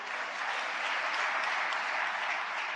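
An audience at a political speech breaks into sustained, even applause, a dense wash of clapping hands at a steady level throughout.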